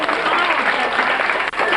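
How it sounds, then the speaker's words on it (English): An audience clapping loudly for a child picked from the crowd at a reading event, a dense, continuous burst of applause close and full throughout, with a brief dip near the end. "Let's clap for him really loud."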